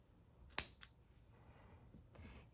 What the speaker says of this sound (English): I'm going to go ahead and cut it off